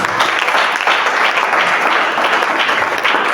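A crowd applauds loudly and continuously, a dense wash of clapping with some cheering that stays steady from start to finish.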